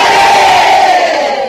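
A large rally crowd at a Seoul political event shouts a loud, unified "manse" cheer, one sustained collective roar held close and strong for over a second before tapering slightly.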